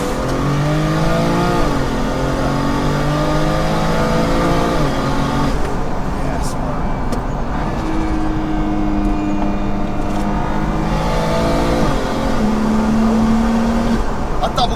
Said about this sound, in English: And the sound, the wastegate chatter